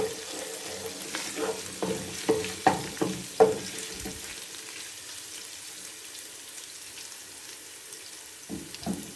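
Ingredients frying lightly in a koyla karahi pan, a quiet steady sizzle with several spoon scrapes and knocks early on, then a soft, even hiss.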